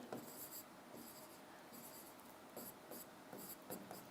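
Hand writing on a board during a maths lesson on sets, with repeated scratchy strokes in short bursts, close and fairly quiet, with no voice over them.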